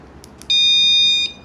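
A Keye security alarm sounds up close: two short chirps, then a loud, piercing, steady high-pitched beep held for under a second before cutting off.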